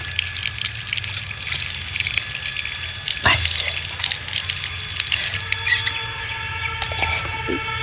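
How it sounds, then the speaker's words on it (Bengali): Running water from a tap splashes steadily as a stick that fell on the ground is rinsed outdoors in a garden, with birds faintly audible and a brief knock partway through. "একটু ভালো করে ধুয়ে নিই নিচে পড়েছিল"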